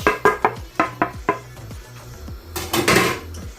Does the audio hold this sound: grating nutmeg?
yes